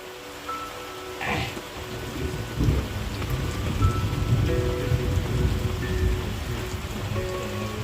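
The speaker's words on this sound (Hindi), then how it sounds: "ऐसी बारिश में जाना थोड़ा मुश्किल है" Heavy rain pours steadily in the hills while thunder rumbles low and long beneath it, the downpour hissing on surfaces nearby and building slightly louder as the storm continues, with no talk.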